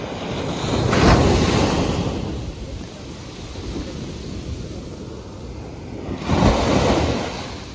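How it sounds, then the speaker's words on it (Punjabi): Ocean waves breaking on the shore at Kanyakumari, two big surges rolling in several seconds apart over constant surf roar and gusting wind buffeting the microphone. "ਕਿਤੇ ਕਿਤੇ ਲਹਿਰ ਕਿੰਨੀ ਵੱਜ ਜਾਂਦੀ ਹੈ ਕਿਤੇ ਕਿਤੇ ਕਿੰਨੀ ਘਟ ਜਾਂਦੀ ਹੈ"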